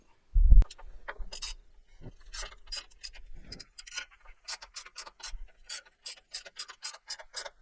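A ratchet and extension tightens a bump stop bolt on a Ford Raptor, giving a quick run of sharp, evenly spaced clicks close by after a brief heavy knock, with faint rubbing between strokes.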